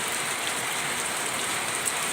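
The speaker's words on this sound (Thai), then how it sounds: "ตกมาแล้วเด้อฝนมาแล้วค่ะ" Steady rain falls outdoors as an even, continuous hiss with no distinct drops or breaks, moderately loud throughout and with no voices.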